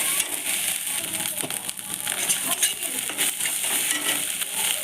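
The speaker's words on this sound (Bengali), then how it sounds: "ভালো করে মশলাটাকে ভেজে নিতে হবে" Spice paste (masala) sizzling and crackling in hot oil while being stirred for a katla fish curry with taro, a steady close frying hiss with small scraping stirs and light clinks throughout.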